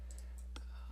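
A single computer mouse click lands mid-way through a photo-editing session in Google Photos, crisp and close against a steady low electrical hum, with no voices present.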